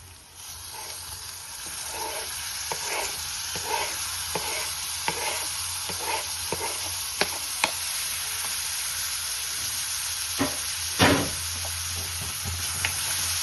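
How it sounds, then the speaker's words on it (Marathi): Tomatoes hiss and sizzle in a hot-oil spice tempering for palak paneer, with repeated spoon taps and stirring scrapes over a steady crackle, close by and without speech. "आता टोमॅटो टाकू"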